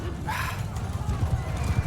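Horse hooves clip-clop with a brief whinny amid battle noise in Mount & Blade II: Bannerlord, all under a low, busy rumble of combat, with a voice talking faintly.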